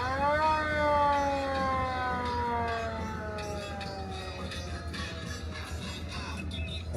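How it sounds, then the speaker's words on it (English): A siren near a lake boat winds down in long falling tones, loud at first and then fading under steady background noise with faint clatter. "That's the siren."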